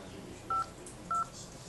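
Two short touch-tone dialing beeps, evenly spaced and identical, come from a JavaScript-built phone app on a Boot to Gecko (B2G) handset. They sound clear and close over a faint room hiss, with no talk.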